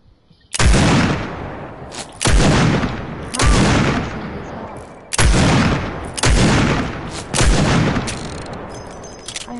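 Six loud, booming gunshots in a video game, spaced a second or two apart, each with a sharp blast and long echoing tail, with no voices.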